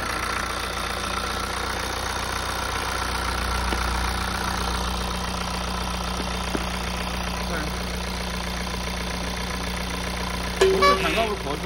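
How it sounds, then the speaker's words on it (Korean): A BMW 520d G30 diesel engine idles steadily with a low, even rumble and faint knocking after a fuel misfuelling repair, while people talk quietly nearby. "엔진 진짜 조용하다, 이거"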